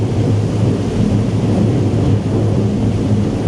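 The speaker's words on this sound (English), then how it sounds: "Hear the roar of those engines." Engines of a Safehaven Marine Voyager T2000 yacht run near 40 knots during a rough-sea trial, giving a loud, steady, unbroken roar with a deep low rumble and broad rushing noise throughout.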